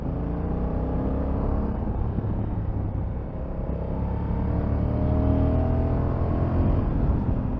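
A 2022 Honda NT1100 DCT motorcycle pulls away in third gear, its engine rumbling steadily and building as it accelerates, heard from the rider's position with wind and road noise, no talking.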